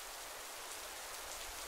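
Steady rain in the video game Minecraft, an even, close hiss of falling drops pattering on surfaces with no break and no voices.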